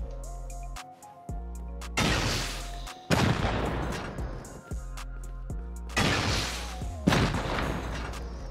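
Shotguns boom during a raid in the console version of the video game Rust, with about four heavy blasts spaced a second or more apart over a steady tonal game background.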